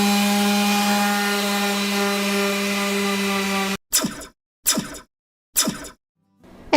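Plywood and molding are cut in a workshop. A steady power-tool whine runs for several seconds, then stops, and three separate short rasping saw strokes follow with silent gaps between them.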